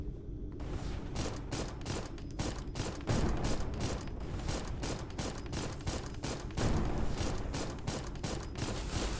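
Enemy gunfire in the mecha game Mecha Girl Souls, a dense fusillade of rapid shots rattling nonstop with mechanical clatter, loud and continuous throughout.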